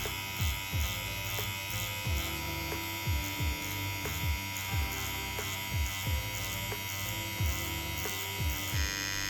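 Steady electric buzz of a tattoo machine shading real skin, with a constant drone and repeated soft rhythmic dips as the needle is pulled in strokes, close and alone.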